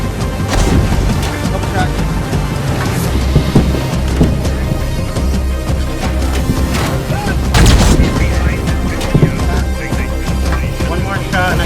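An M1A2 Abrams tank cannon fires in the Squad video game. It gives heavy, loud booms over a dense rumble of battle noise, with distant gunfire and crashes scattered throughout.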